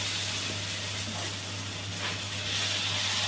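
Dosa batter poured onto a hot pan gives a steady, close hiss and sizzle with a low constant hum beneath, no voices.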